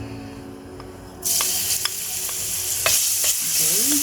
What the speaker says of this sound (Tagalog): I already heated some oil, so we have to saute the onions and garlic first